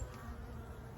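Honeybees flying in and out of a hive entrance, a faint continuous buzzing hum with no voices.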